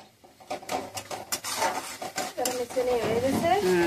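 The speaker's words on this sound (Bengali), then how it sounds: "নাড়াচাড়া করে নাও, খুব সব সকলটাই খুব ভালো করে মিশিয়ে নাও।" Pasta being stirred with Maggi masala in a pan, a spoon scraping and clinking against the metal over a light sizzle, close up, with a faint voice underneath.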